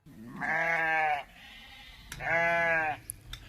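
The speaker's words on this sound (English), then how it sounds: "Sheep." A sheep bleats twice, each call a drawn-out wavering cry about a second long with a short gap between, close and clear.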